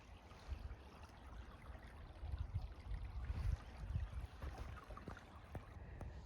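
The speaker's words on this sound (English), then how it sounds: "Beautiful little creek here." A small creek runs beside a hiking trail, giving a soft, continuous babble and trickle of water heard up close outdoors, with faint low rustling and no speech.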